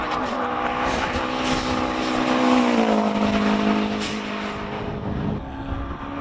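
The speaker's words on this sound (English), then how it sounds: "Clinton Thorne takes off with a thunderous roar there" Turbocharged four-cylinder Birkin 7 race car roaring up a hillclimb course, a loud, sustained engine note that rises and shifts pitch as it accelerates away, with a few pops along the way.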